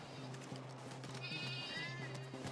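A goat bleats repeatedly in the Payday 2 heist game, with wavering, drawn-out cries over steady game background noise while people talk.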